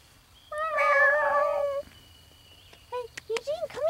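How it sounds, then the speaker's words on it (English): A fluffy cat gives one long, loud, drawn-out meow up close, followed by a few shorter chirping mews and little squeaks. "Come here, kitty."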